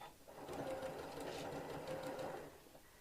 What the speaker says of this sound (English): we're going to sew across with our 1/4 inch seam